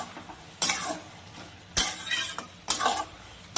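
Bottle gourd and egg are stirred and mixed in a pan: three scraping strokes of a utensil against the pan, close and fairly loud, with soft sizzling underneath and no talking.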